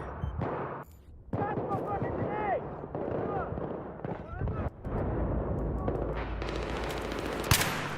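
Gunfire in the Battlefield 3 video game on PS3, bursts of rapid shots and blasts layered with game effects, fairly loud and continuous, with a player talking over it.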